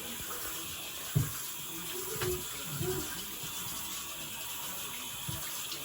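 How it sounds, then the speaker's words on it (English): Hands rubbed and rinsed under a running tap, a soft steady stream of water with a few splashes and knocks, fairly quiet and close. "Wash your hands very good, honey."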